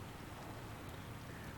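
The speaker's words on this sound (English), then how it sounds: "Bit of rain today." Steady, even rain hisses without pause in the game Warhammer Vermintide 2, a soft constant wash with no thunder and no voices.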